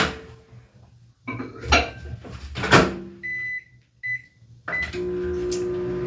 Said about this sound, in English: you're only going to want to microwave it in 30-second increments and stir